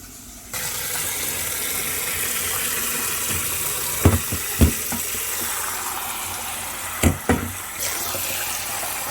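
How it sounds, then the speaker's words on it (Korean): Cold water runs steadily over glass noodles being rinsed and drained in a kitchen, a constant hiss of flowing water with a few soft clunks and splashes close by. "당면은 찬물에 깨끗이 씻어주시고요. 이것도 물을 빼서 준비할 거예요."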